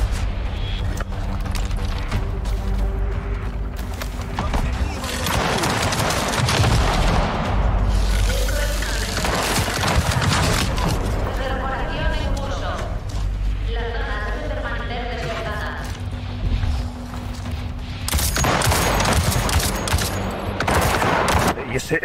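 Sustained gunfire in a firefight in Avatar: Frontiers of Pandora, with repeated bursts, booms and crashing impacts layered densely over the whole stretch, while voices talk through it.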